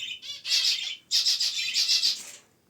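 Harsh, raspy squawks from a red-vented bulbul come in two close bursts, loud and nearby, with a short pause between them.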